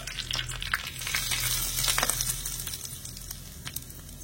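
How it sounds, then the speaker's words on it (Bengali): Black mustard seeds, a dried red chili and curry leaves sizzle in hot oil for a chutney tempering, with a close, crackling fry and scattered sharp pops and spits throughout. "এখানে তড়কা দেওয়ার জন্য আমি এখানে কিছুটা তেল গরম করে নিয়েছি, আর নিয়েছি কিছুটা কালো সরষে আর একটা শুকনো লঙ্কা, আর নিয়েছি এখানে কিছুটা কারি পাতা"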